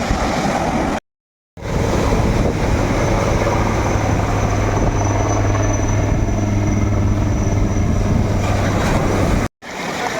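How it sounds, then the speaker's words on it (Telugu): Steady broadband roar of waves and wind on a beach across from a hotel in the Andaman Islands, continuous and loud, with two brief dropouts. "ఈ హోటల్కి ఎదురుగానే బీచ్ బాగుంది."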